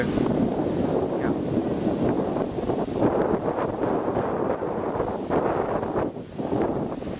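Wind buffeting a microphone while cycling outdoors, a loud, continuous roaring rumble with gusty surges and brief dips, no speech over it.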